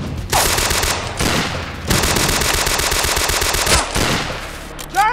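Machine-gun fire in a battle scene, with long rapid bursts that are loud and close, broken by short pauses and ending with a shouted voice.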